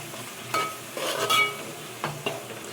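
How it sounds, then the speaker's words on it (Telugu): Masala and green chillies being stirred in a cooking pan for stuffed brinjal curry, a few scraping stirs against the metal over a faint sizzle, no talking. "మసాలా పచ్చివాసన పోయే వరకు ఇలా కలుపుకొని ఒక 5 నిమిషాలు మూత పెట్టేస్తే మగ్గిపోద్ది"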